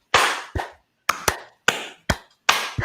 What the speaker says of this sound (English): if you and I tried to clap our hands together, we might be able to do it